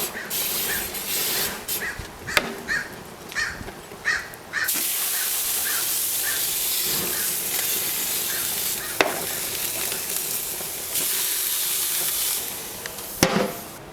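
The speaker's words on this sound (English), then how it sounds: "you got to use some no-stick spray on your hot grill" Non-stick cooking spray hisses onto a hot grill before salmon goes on, several short spurts followed by long steady sprays, close up, while crows caw repeatedly in the background.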